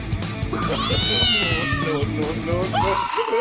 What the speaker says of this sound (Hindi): भैया दीदी इतना प्यारा बिल्ली का बच्चा।